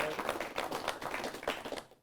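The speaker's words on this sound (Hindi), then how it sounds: "तालियों से स्वागत कर सकते हैं।" An audience claps to welcome visiting guests, a dense burst of applause sustained for about two seconds before it tapers off at the end.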